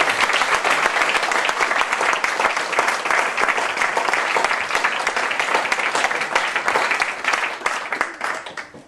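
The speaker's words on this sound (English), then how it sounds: "another round of applause for all the speakers" An outdoor park party crowd gives the speakers a loud round of applause, dense sustained clapping that holds steady and starts to thin out near the end.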